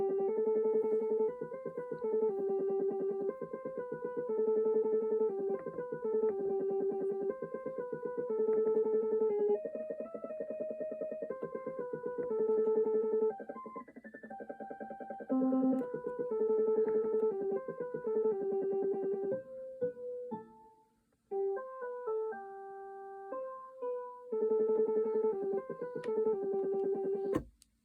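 A Korg wavestate synthesizer plays one sample step soloed within a running sequence: bright, clear tones step through short repeating note patterns, with a brief dropout and a few sparser notes near the end.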